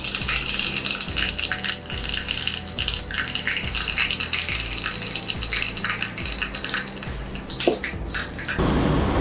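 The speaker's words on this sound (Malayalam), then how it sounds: "കടുക് പൊട്ടാൻ തുടങ്ങിയിട്ടുണ്ട്" Mustard seeds crackling and popping in hot sunflower oil for a khaman dhokla tempering, a dense, steady sputter close to the pan that cuts off sharply near the end.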